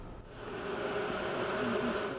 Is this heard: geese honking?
no